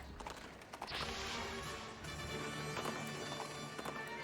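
Hooves clip-clop steadily as a horse pulls a carriage in the video game Princess Peach Showtime, a continuous, fairly loud trotting rhythm mixed with bright game music and effects, with no talking.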